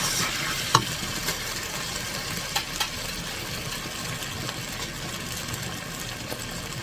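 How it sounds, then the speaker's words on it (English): Cheese being mixed into a Honky Tonk casserole in a hot pan, a steady sizzling hiss with a few soft scrapes and light taps of a utensil, near and alone. "Give it a little mix."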